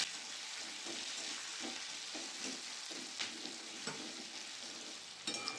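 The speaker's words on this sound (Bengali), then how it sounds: "পেঁয়াজটা ভালো করে ভাজা ভাজা করে নেব।" Chopped onions fry in oil with bay leaf and whole cumin, giving a soft continuous sizzle broken by regular scraping stirs of a spatula, close and quiet with no speech.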